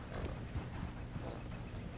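Horse hooves clip-clopping in Red Dead Redemption 2, a faint, irregular series of soft hoof thuds at a walking pace under low ambient noise.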